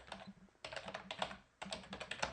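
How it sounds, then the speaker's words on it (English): Fast typing on a computer keyboard, dense clatter of keystrokes in three bursts separated by brief pauses, close and fairly quiet with no talking. "oops, my keyboard."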